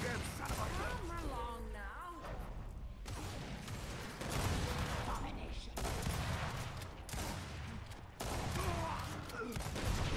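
Rapid automatic gunfire in a ranked multiplayer match of the video game Gears 5, sustained bursts broken by short gaps, with mechanical clatter mixed in.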